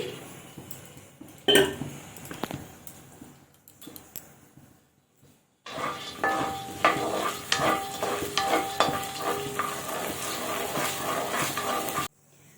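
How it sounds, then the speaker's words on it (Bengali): Peanuts fry in hot oil in a wok, a dense crackling sizzle with clinks and scrapes of stirring, quiet at first and then loud and continuous until it cuts off. "আমি কিন্তু এখন বাদামগুলো তেলের উপর ভেজে নিচ্ছি"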